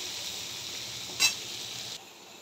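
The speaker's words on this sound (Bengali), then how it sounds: "এই জন্য আমি পেঁয়াজটা ভেজে নিচ্ছি।" Onions frying in oil in a pan while making dhokar dalna, a continuous soft sizzle with one brief clink of a utensil midway, then the hiss drops lower near the end.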